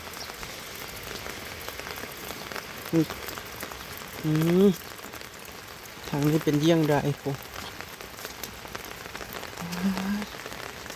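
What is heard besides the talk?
heavy rain falling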